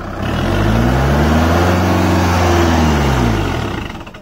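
A Kubota MU4501 4WD tractor engine labors hard under load with the brakes held in gear, a loud, close diesel drone whose pitch sags and strains before the sound tapers off at the end.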